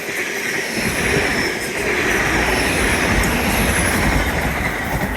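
A train rumbles past at close range at Teignmouth, a steady loud roar of wheels on track with faint high squeals riding on top throughout.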